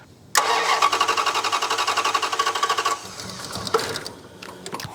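A turbo V8 police car with custom exhaust, EFI and intercooler cranks repeatedly on the starter in a fast, rhythmic chugging that fails to catch, then stops, followed by a brief second bump.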